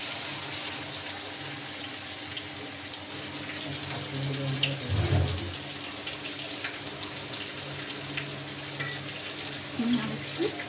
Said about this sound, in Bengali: হয়ে গেছে, এবার আমি জল দিয়ে দেব।